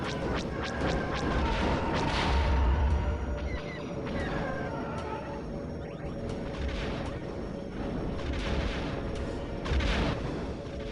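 Laser fire in the Rogue Squadron 3D video game, a run of rapid, repeated blasts over heavy rumbling booms and engine roar that carry on through the whole stretch.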